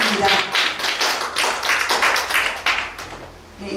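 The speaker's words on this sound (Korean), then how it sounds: "네, 큰 박수 부탁드립니다" An audience claps after a poem is recited at a national poetry recital contest, a steady burst of applause lasting a few seconds with a slight fade at the end.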